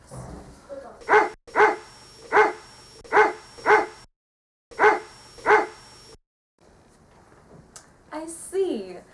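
A dog barks in a steady series of about seven evenly spaced, loud, close barks, pauses, then gives a whiny, yelping vocal burst at the end.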